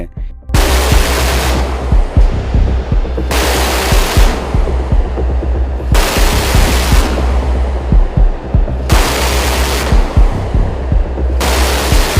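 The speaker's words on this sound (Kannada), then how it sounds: "A K six thirty air defence gun ಸಿಸ್ಟಮ್ಸ್ಗಳು ನಿಯೋಜಿಸಲ್ಪಡಲಿವೆ" Loud, sustained bursts of rapid automatic gunfire from an AK-630 air defense gun, several long continuous volleys separated by brief pauses, dense and roaring throughout.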